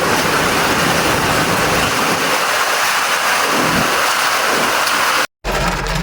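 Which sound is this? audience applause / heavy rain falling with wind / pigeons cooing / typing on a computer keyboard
heavy rain falling with wind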